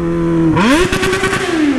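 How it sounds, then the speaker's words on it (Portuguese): Yamaha XJ6 motorcycle fitted with a 3-inch exhaust pipe, revving up sharply from idle and holding a loud, close engine note with crackling exhaust pops before easing back down. "E o estouro que dá ali no escape."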